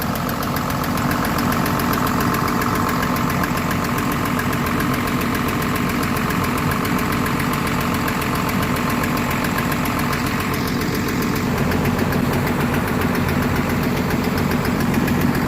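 A Volvo excavator's diesel engine idles steadily and close by, a continuous low rumble with a faint knocking vibration that holds even throughout, with no one talking over it.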